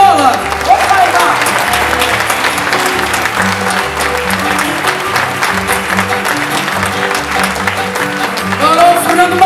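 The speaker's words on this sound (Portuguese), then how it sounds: "Um grande aplauso para o Carlos Fonseca na viola" An audience at a fado concert applauds the guitarist with dense, sustained clapping that stays loud throughout, while a low musical hum or tones carry on underneath.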